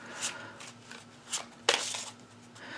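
Playing cards being reshuffled by hand in a few quick riffling bursts, close and fairly quiet, with short pauses between shuffles and no talking.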